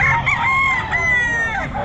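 A rooster at a pet market crows once, a loud, close, drawn-out call that fills the whole moment over a low background rumble.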